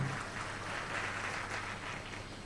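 At an energy engineering industry conference, an audience gives a soft, steady round of applause, faint and distant, with an even continuous patter.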